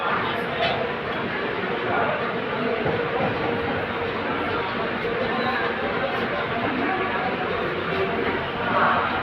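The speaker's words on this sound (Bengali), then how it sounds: "আজকে রওনা দিল ট্রেন ছেড়ে দিয়েছে" The Padatik Express pulls out of Alipurduar station with a constant, dense rumble of wheels and carriages. People talk throughout over the steady roar.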